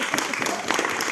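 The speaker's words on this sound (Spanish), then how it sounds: "un aplauso, un fuerte aplauso." An audience at a bookstore book presentation applauds, a dense continuous wash of clapping that is fairly loud and steady throughout the short moment, with no clear voice on top.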